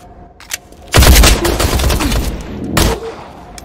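A sudden loud burst of gunfire erupts after a couple of faint shots, a rapid rattling volley, then one more sharp blast near the end.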